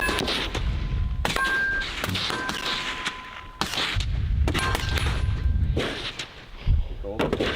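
Gunfire during Navy SEAL shooting training, sharp loud shots in irregular bursts separated by brief gaps, with people talking in between and over the reports.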